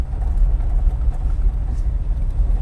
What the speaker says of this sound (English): Oh, it just has a beautiful rumble.